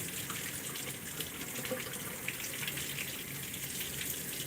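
Tap water runs in a steady, close hiss with no breaks as plastic dentures are rinsed under it.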